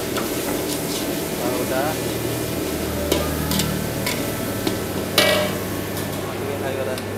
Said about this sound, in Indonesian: Tumis dulu sampai wangi.